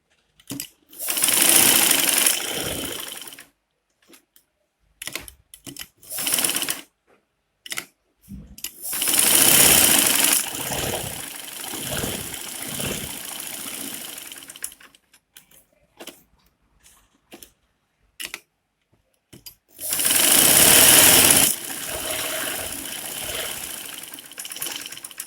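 A sewing machine stitching a face cap, with several bursts of rapid whirring mechanical stitching separated by pauses and small clicks of handling, close by.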